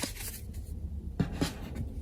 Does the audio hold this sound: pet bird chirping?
no